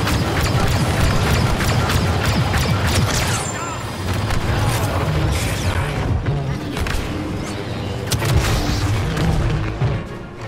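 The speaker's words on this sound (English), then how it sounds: "Grenade out!" Battle noise from a Galactic Assault on Naboo in the Star Wars Battlefront 2 video game, a dense and continuous roar of booms and gunfire with a grenade blast buried in the mix.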